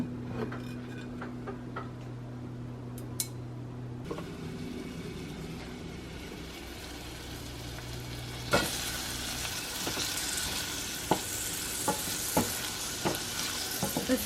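Onion and spinach sauté in a small saucepan with a soft, steady sizzle under faint kitchen hum, punctuated by occasional clicks and stirring taps, growing a little brighter and louder partway through.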